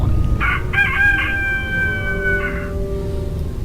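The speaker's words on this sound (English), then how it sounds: "The sun has risen and the rooster crows." A rooster crows loudly and close in the A Vampyre Story video game, one long drawn-out cock-a-doodle-doo over a low background hum, with no voices.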